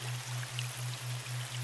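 Steady rain falling with a constant dense hiss, a soft pulsing low hum running beneath it, no voices.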